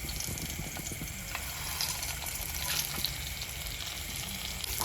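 Black pepper, cumin, roasted gram, poppy seeds and coconut roast in a pan for tomato kurma, giving a steady, close sizzle with faint crackles throughout and no voice.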